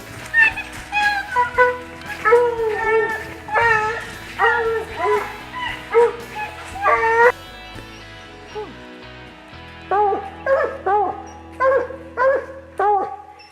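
Hunting dogs on a black bear hunt bark and yip in rapid rhythmic bursts, close and loud, with a short lull before the yelping resumes; someone talks faintly underneath.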